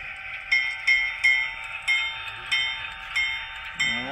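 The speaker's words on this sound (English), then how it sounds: "Let's take a listen to this bell." An HO scale model diesel locomotive bell rings steadily, with about eight evenly spaced metallic clangs over a constant electronic hum, fairly quiet and close, with no talking.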